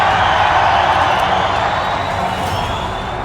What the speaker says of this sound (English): the roar of the crowd